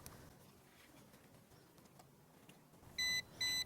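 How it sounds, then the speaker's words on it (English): Two short, bright electronic beeps in quick succession from a Ruko F11 Pro drone during compass calibration, near the end, after a stretch of quiet background rustling. "It beeps."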